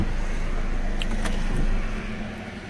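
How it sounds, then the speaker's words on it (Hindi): A Skoda Laura's engine idles steadily at close range in a workshop during a coolant temperature sensor fault repair, with a constant low hum and faint clicks. The engine note eases off slightly near the end. "गाड़ी स्टार्ट है"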